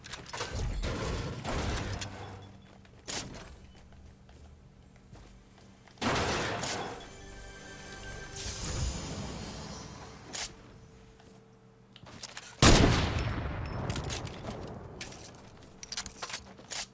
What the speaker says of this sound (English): I'm just shooting my new gun